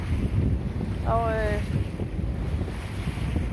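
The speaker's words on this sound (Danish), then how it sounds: "komme ud og få noget frisk vind. Komme ud og mærke bølgerne lidt igen." Wind and waves outdoors by the sea: a steady, full rushing roar with buffeting wind on the microphone and a brief voice fragment partway through.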